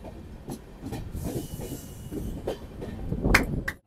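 A late-running train pulls into Rampurhat station with a low rumble, intermittent clanks and a brief hiss and squeal near the end, moderately faint.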